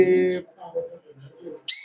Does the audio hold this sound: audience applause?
no